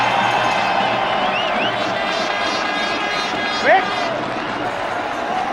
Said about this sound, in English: It's enough to get the crowd roaring.